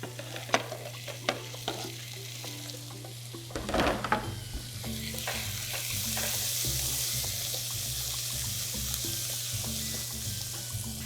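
Tomatoes, butter and vegetables sautéing for shrimp fricassee: a steady sizzle in the pan with scraping stirs and clinks of a utensil against the pan, a brief burst of louder frying midway, close up and without talk.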